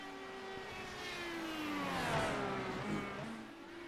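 An IndyCar engine in the iRacing simulation on the Daytona road course wails down the front straightaway, a rising then falling pitch as the car sweeps past, moderately loud and alone.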